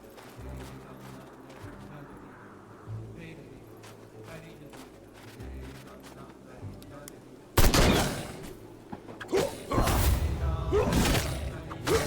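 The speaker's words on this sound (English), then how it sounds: "So I load up the rifle and hope I'm quick enough." Rifle shots in the horror game Sang Froid: quiet ambience first, then loud sharp shots with booming reports and echoes in the last few seconds, with someone talking over the game.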